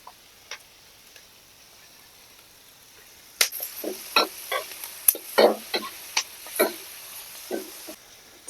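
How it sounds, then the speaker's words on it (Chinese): Stir-frying cooked pig ears with garlic scapes in a pan, a quiet start followed by a burst of sharp clinks and scrapes of a spatula against the pan over a soft sizzle. "先把这个炒一下，因为那个猪耳朵它已经熟了的。"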